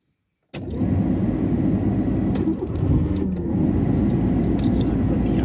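A car engine catches abruptly after silence and settles into a steady, close idle rumble, with faint clicks and rattles over the running engine.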